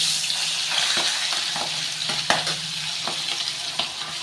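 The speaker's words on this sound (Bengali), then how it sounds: "মাথাটা এক পিট ভাজা হয়ে গেছে" Oil sizzles steadily as a rohu fish head fries in a pan, with scattered scrapes and knocks of stirring cutting through the hiss.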